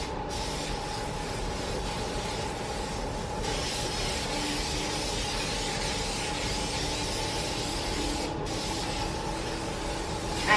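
An aerosol can spraying a protective clear coat onto a hand-painted DIY flower pot, heard as a continuous, even hiss that lasts the whole stretch, close and steady.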